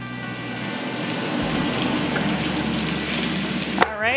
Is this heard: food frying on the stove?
yes